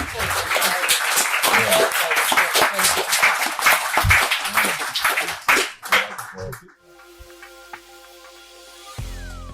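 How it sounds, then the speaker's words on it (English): After a panel discussion on designing fairer cities, an audience breaks into hearty applause that lasts about six seconds and then cuts off, followed by quiet with a faint tone and a low thump. "Big round of applause."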